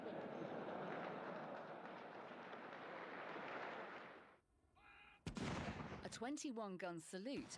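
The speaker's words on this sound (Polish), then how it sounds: "70. urodziny księcia Filipa uświetnił salut z 21 armat" A 21-gun artillery salute marks Prince Philip's 70th birthday: rolling, booming cannon fire blurs into a continuous loud rumble for about four seconds, then dies away before voices take over.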